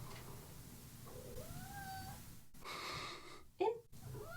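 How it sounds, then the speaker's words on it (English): Cat meowing at a door, a couple of rising, drawn-out meows and a short louder cry, faint and close in a quiet room with low background noise. "Don't buy cats, because they'll pretend they want to come in and then they don't."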